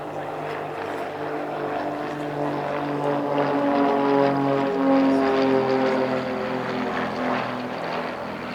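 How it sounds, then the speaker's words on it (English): Three Tutor T1 propeller trainers of the University of Birmingham Air Squadron fly past at Cosford Airshow, a steady droning buzz with layered engine tones that rises to a peak midway and then fades slightly. "a trio of Tutor T1s from the University of Birmingham Air Squadron"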